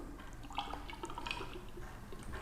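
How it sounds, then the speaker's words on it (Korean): Liquid solution trickles from an upright container into a soil moisture meter gauge with a ceramic tip, giving faint, close drips and a thin gurgling flow over a quiet background, with no speech. "똑바로 세운 상태에서 졸졸졸"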